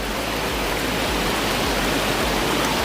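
Loud, constant roar of a waterfall with rushing water, steady and dense throughout, while someone wades barefoot through shallow, slippery water nearby; faint rhythmic low thumps recur under the roar.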